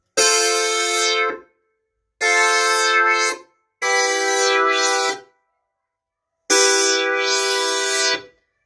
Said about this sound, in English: And here's the Korg Prologue 16. Here's a chord.